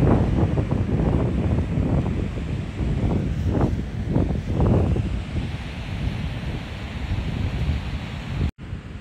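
Steady wind buffeting the microphone on a beach, with the broad wash of surf rolling underneath, continuous and fairly loud throughout with no talking.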